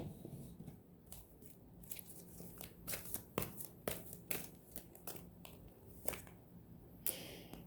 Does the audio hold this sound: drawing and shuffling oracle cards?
yes